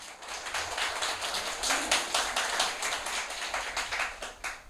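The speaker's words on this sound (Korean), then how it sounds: "다시 한번 박수 한번 해주실래요?" Congregation clapping for a church choir during a retreat service, a dense patter of many hands that swells and stays steady throughout with no talking.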